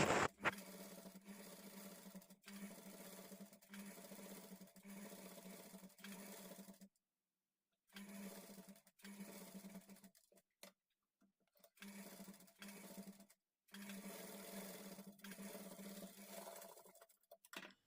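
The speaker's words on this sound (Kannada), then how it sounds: "ಥ್ರೆಡ್ ಪೈಪಿಂಗ್ ಸ್ಟಿಚ್ ಮಾಡ್ಕೊಳ್ಳೋವಾಗ ಅದ್ರ ಮೇಲೇ ಸ್ಟಿಚ್ ಮಾಡ್ಕೊಳ್ತಾ ಬರಬೇಕು" A sewing machine stitches over thread piping along a square blouse neckline, its rapid mechanical rattle running in several close bursts separated by short pauses. The sound is fairly quiet, with no talk.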